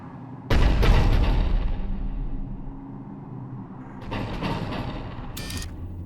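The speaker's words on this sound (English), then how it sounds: "The cannon fire is clearing the way." Two heavy video game cannon booms from Mass Effect 3 a few seconds apart, each followed by a long rumbling decay, with no talking.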